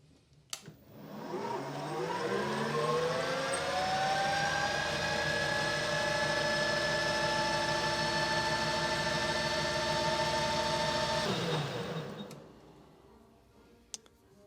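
Metal lathe facing a steel exhaust flange held in a chuck, spinning up to a steady whirring motor hum with a faint cutting tone, running evenly for about ten seconds before winding down, with no talk.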